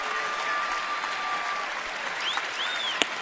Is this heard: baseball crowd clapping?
yes